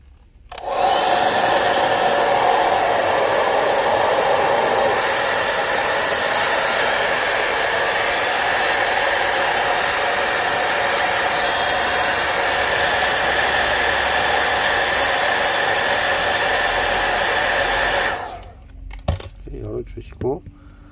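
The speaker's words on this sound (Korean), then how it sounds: "드라이기로 여기를 열을 주면 되거든요" A hair dryer heats a Galaxy S20 Plus phone during disassembly, running continuously at close range with a steady, loud whirring roar, then cuts off near the end, leaving faint handling clicks.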